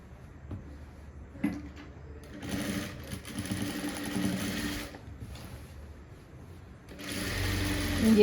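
Sewing machine stitching a nighty alteration at a tailor's, close-up whirring runs of a few seconds each separated by short pauses, with faint handling sounds between bursts.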